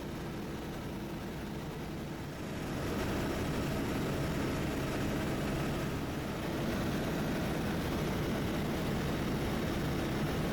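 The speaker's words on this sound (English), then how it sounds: "Soon we were flying back to the ship and the end of our final helicopter flight of this voyage." A helicopter flies back toward a ship over the Antarctic Ross Sea, its engine and rotor making a steady, loud broadband roar that swells slightly after the first couple of seconds, with no voices.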